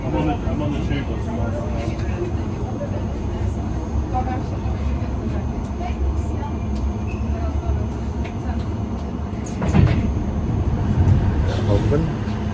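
A London Underground Piccadilly line tube train rumbles along with a loud, continuous roar and rattle heard from inside the carriage, with a sharper clunk partway through and voices faintly mixed in.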